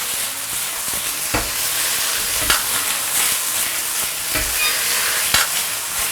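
Scallions and pea shoots stir-frying in a wok over the highest flame, a steady loud sizzle with repeated scraping stirs and spatula knocks against the metal, no voices.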